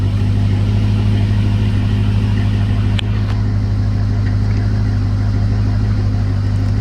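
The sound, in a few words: Corvette C6/C5 engine revving through exhaust cutouts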